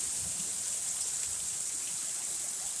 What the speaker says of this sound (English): The rain just keeps coming.